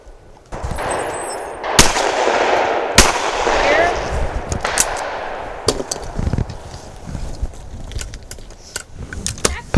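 Shotgun shots at an outdoor sporting clays course ring out sharply, several spaced blasts against background noise, with people talking nearby.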